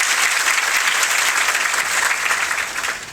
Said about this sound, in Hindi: तो इनके लिए भी जोरदार तालियां।